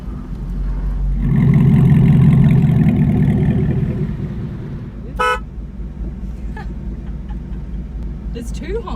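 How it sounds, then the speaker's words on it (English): A Devel Sixteen car horn gives a short, loud double toot over a running engine, with people chatting in the background. "There's two honking buttons here."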